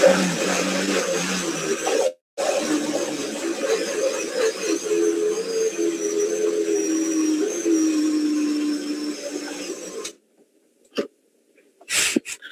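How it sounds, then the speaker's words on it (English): A loud, steady whirring blender pulping paper for about ten seconds with a short break, then stops, leaving a few brief knocks. "I don't think it matters which setting on your blender you use"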